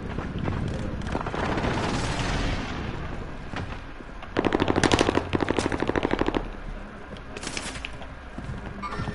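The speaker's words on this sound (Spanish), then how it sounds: "Wow, qué disparo" Video game gunfire crackles in rapid automatic bursts, with denser volleys in the middle, over a rumbling background of distant blasts, fairly loud with no talk.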